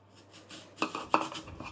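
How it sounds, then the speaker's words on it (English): A knife slices an M&S Envy apple on a board, giving two sharp, close taps after a soft rustle. "So what I'm going to do is just cut it in slices and then I'll take the core out afterwards."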